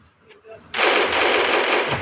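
Rapid automatic gunfire in the Free Fire shooting game erupts suddenly and loudly after a brief quiet moment, sustained as a dense burst.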